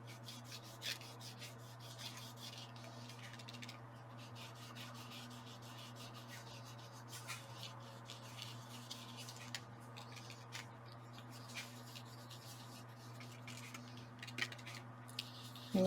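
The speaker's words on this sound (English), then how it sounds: "you got to really rub this wax stuff in" Steady rubbing of wax into a moulded vintage wooden door, a soft continuous scrubbing texture with small scratchy accents, close and quiet over a low constant hum.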